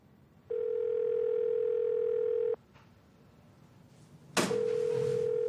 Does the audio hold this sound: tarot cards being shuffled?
no